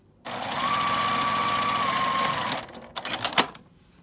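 A sewing machine runs steadily for about two seconds, edge-stitching along fabric near a zipper on a lined pouch, then stops with a few short bursts and clicks as the stitching finishes.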